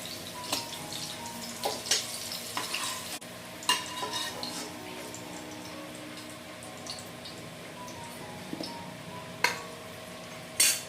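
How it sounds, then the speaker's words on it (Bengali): Potatoes frying in oil for a Bengali vegetarian potato and cauliflower dish give a steady close sizzle, broken by several sharp clinks and scrapes of a utensil against the pan. "আমাদের আলুগুলো কিন্তু লাল লাল করে ভাজা হয়ে গেছে"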